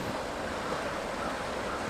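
Steady rushing water runs without a break, a soft continuous wash of a wild mountain river in the Tatras close by, with no voices.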